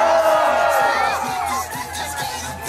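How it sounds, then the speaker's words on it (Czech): Spectators at a junior obstacle race for children roar and cheer together, a loud sustained crowd noise with shouts and whoops, fairly close and continuous throughout. "Publikum poprosím po pořádný řev."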